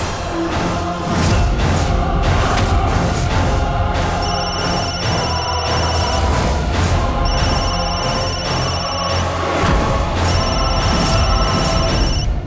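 Telephone ringing in a TV drama scene, three repeated electronic trills over loud dramatic background music and crashing effects, rhythmic and fairly clear.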